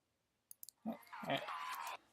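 A few crisp mouse clicks tick quietly in close succession, followed by a person speaking.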